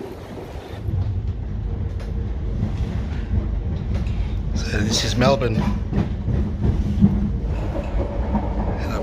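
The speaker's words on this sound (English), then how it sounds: "I've got 1 minute before the next train comes." A train pulls into a Melbourne city station, a continuous rumbling, rattling rail roar with clickety-clack and squealing wheel noise. A person talks briefly over it.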